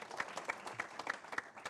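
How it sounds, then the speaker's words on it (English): A small audience at a sponsorship conference gives a brief round of applause to welcome panelists, with sparse, distinct claps in a loose rhythm, fairly faint and short. "we'll give them a round of applause, welcome."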